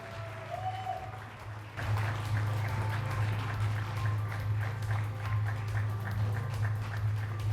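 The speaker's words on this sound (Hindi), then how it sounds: "Big round of applause everybody" An audience applauds at the Rangla Punjab Awards 2024 ceremony, with a steady wash of clapping that swells after a brief quieter opening and carries on evenly under a low, droning musical backing.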